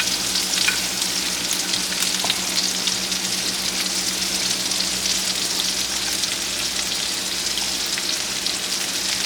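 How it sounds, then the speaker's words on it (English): Onion rings sauté in a hot pan with a loud, continuous hiss and crackle that holds steady from start to finish, close up and with no voices. "Gotta saute these onions"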